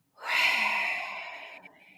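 A single slow exhale during a breathwork session, a soft breathy rush that starts abruptly, holds steady and tapers away close to the microphone, with no words spoken.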